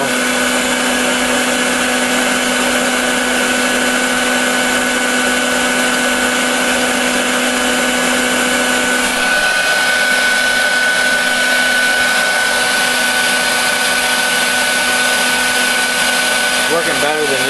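A prototype two-pound-capacity electric fluid bed coffee roaster runs with its recirculated hot-air blower and heating elements on, a loud, steady whirring roar with a constant tonal hum that shifts pitch partway through.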